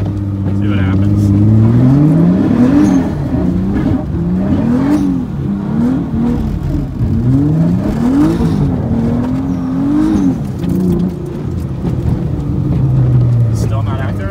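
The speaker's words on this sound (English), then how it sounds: "we're just gonna start off the video with some drifting." Nissan Z32 drifting and doing donuts on a wet road in the rain, its engine revving up and down in rising and falling sweeps, loud and close throughout, with voices talking over it.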